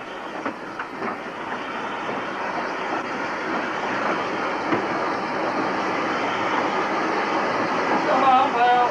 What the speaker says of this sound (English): The locomotive backs down to the afternoon service.